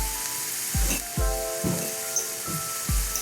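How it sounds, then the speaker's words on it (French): Cooked rice being broken up and crushed in a frying pan, with a steady sizzle underneath and about five distinct scraping thuds from the utensil pressing down at roughly half-second intervals. "je suis en train d'écraser pour pas avoir des gros paquets de riz"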